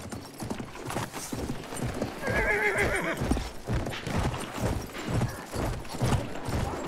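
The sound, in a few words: horse galloping and neighing in video game Battlefield 1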